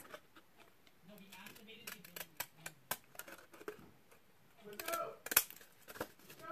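Scalloped-edge scissors snip paper in a series of quick, close crisp cuts, irregularly spaced, with soft speech in between.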